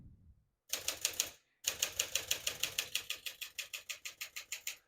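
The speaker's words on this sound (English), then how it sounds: "We're going to keep that on single for now and finish typing." Rapid mechanical clacks of a 1957 Smith-Corona Silent-Super manual portable typewriter, a short burst, a brief pause, then a steady run of evenly spaced keystrokes, close and crisp.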